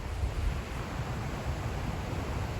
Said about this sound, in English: of the waterfall itself.